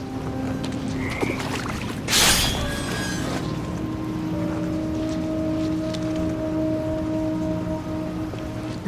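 Video game toads croak in a dim ambience, with a few short croaks over a steady hum and a brief splashy burst partway through, fairly faint and with no talking.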